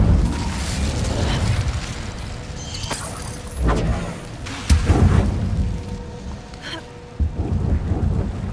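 Fire spells cast in Hogwarts Legacy burst in rumbling, crackling whooshes, several heavy surges rising and fading over a continuous roar of flame and background effects.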